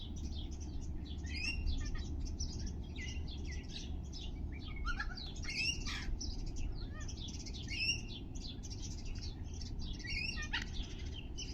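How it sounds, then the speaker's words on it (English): Black cockatoos calling outdoors, with repeated bright chirping calls scattered throughout over a steady low background rumble, moderately distant. "We spotted some black cockatoos on the way up,"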